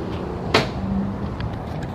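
A door opens in the morning with a single sharp clack or latch thump, followed by a low background hum and faint shuffling; no one speaks during it.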